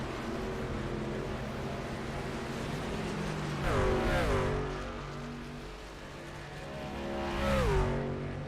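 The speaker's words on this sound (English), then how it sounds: "You get to listen to these trucks scream by" SERL race trucks at Homestead speed past two times, each engine screaming louder and rising in pitch as it nears, then falling away as it passes, with no voices.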